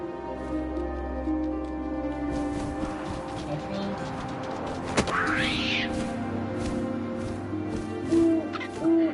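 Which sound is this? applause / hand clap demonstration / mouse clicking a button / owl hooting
owl hooting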